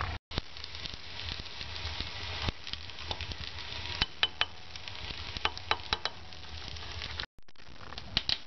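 Food cooks over an open fire outdoors in the countryside, with a low crackling sizzle and scattered sharp pops and clicks over a steady soft background, and a brief dropout near the end.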